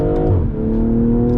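A 2020 BMW M340i engine pulling hard under full throttle, a loud close growl with clear rising pitch as revs climb in one short burst.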